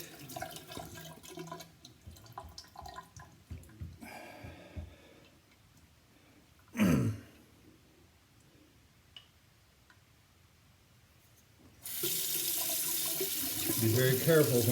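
Faucet water runs steadily while a straight razor is rinsed, a brief louder splash midway and a stronger, fuller rush of water near the end, close by.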